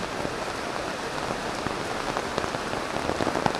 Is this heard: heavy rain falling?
yes